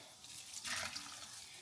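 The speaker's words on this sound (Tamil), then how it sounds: "அதுக்கு பிறகு குளிர் தண்ணி கொஞ்சம் விட்டா சரி." Cold tap water pours over freshly boiled veggie noodles in a home kitchen: a quiet, steady hiss of running water that swells briefly midway, with no voices.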